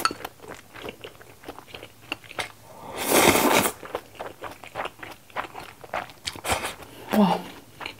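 Jajang ramen and jjamppong ramen eaten together, with crunchy chewing and slurping bites up close, one loud rustling burst in the middle and soft chewing around it.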